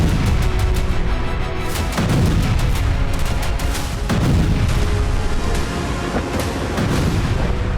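Cruise missile strikes on the Chonhar and Henichesk bridges in Ukraine's Kherson region: loud, dense rumbling explosions with heavy booms around two and four seconds, captured in war news footage with no talking.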